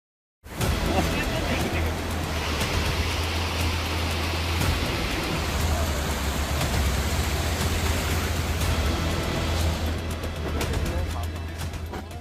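Torrential monsoon rain pours steadily and loudly during flooding in upper Assam, a dense, continuous roar that stays constant throughout with a low rumble underneath.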